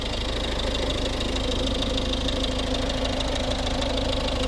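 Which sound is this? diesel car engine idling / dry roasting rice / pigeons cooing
diesel car engine idling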